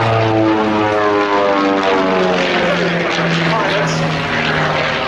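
Two Pitts S-1D Special aerobatic biplanes in a flying display at an air festival, their propeller engines droning loudly and continuously with shifting pitch as they pass, over crowd ambience.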